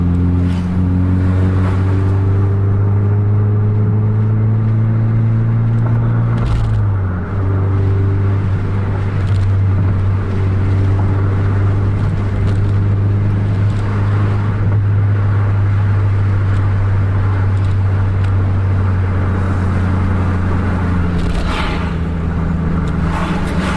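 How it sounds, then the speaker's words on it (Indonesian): Two Putra Pelangi Scania K410 buses travel in convoy, their loud, steady engine drone holding low with gear changes and rising revs, heard from close by throughout. "udah iring-iringan nih dua bis Putra Pelangi. Dua-duanya Scania."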